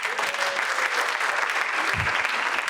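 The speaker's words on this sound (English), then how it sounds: "Give a round of applause, come on." Applause from an audience at an education training session, a close, steady wash of clapping filling the whole clip, with a brief low thump partway through.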